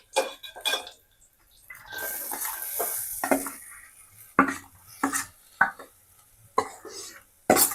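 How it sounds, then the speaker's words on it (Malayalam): Carrot and grated coconut for Kerala carrot thoran are stirred in a pan, giving clattering spoon-on-pan scrapes and knocks with a soft sizzle between them, close and fairly loud, with sharp separate clanks near the end. "ജസ്റ്റ് ഒന്ന് ഇളക്കി കൊടുക്കാം."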